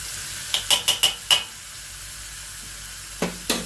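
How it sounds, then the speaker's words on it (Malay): Spaghetti sauce made from tomato puree cooking over low heat in a pan, a soft background sizzle broken by a quick series of sharp clinks from a utensil against the pan, then a pause and two more scrapes. "So kita kacau dia sampai dia masak sikit ya."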